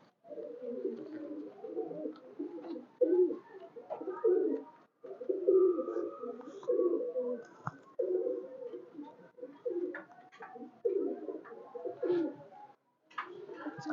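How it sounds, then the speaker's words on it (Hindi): A pair of round-winged pigeons kept by a breeder coo in repeated low, throaty phrases, close and continuous with brief pauses, over about fourteen seconds with no clear talk. "गोल पर का कबूतर है"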